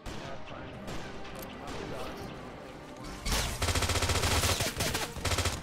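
Heavy automatic gunfire erupts in dense, loud bursts during a Halo-themed Arma 3 battle for a control room, following a stretch of quieter distant shots and background noise, with players talking over the fight.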